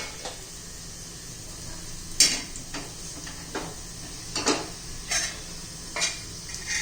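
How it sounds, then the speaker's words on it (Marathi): Vegetables being stirred in a pan for an egg kebab, with scattered scraping and clinking of a spoon against the pan, a few sharper knocks spaced irregularly over a low steady background. "आपण याच्यामध्ये भाजी मिक्स करणार आहोत"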